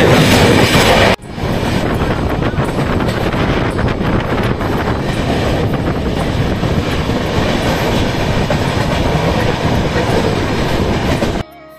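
A passenger train runs through flooded countryside about 50–60 km before Vijayawada, Andhra Pradesh. It produces a loud, continuous rumble and rattle with wind buffeting, beginning after a brief quieter moment at the start.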